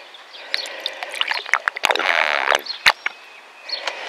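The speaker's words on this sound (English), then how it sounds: "So that water's draining out just like it should." Water drains through a car's sunroof drain tube with gurgling, sucking and splashing, close and intermittent, broken by sharp clicks and knocks.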